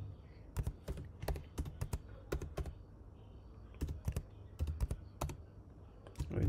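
Keys clatter on a computer keyboard as a connect command is typed at a desk, a quick irregular run of close, crisp clicks in short bursts over a faint steady hum, with no talking.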